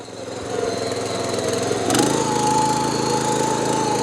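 A 7.5 HP mini power tiller fitted with a rotavator runs steadily close by, its engine drone loud and continuous and growing harsher at about the two-second mark.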